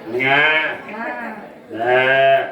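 A human voice imitates a goat's bleat during a Tamil villupattu storytelling performance: two loud, quavering, drawn-out bleats with a softer wavering stretch between them, close and clear.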